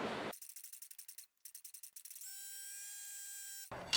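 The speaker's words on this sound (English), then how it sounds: "you just leave the bar in there and crank it over and pry against it" A breaker bar cranks over a stuck 1935 Ford flathead V8 engine, making quick, close ratcheting clicks in two runs, followed by a steady thin ringing tone that ends abruptly.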